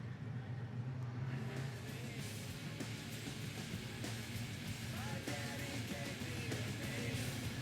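Supersaloon race cars, driven by former stock car and super stock drivers, roar together around the Cromwell circuit in a steady, dense engine drone with gear-change tones, heard from trackside without talk.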